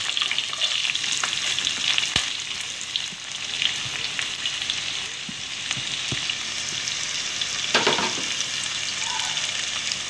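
Sliced large onions hitting hot oil in a pan for egg kulambu, a steady crackling sizzle of frying with occasional stirring clinks, close and continuous with no talk.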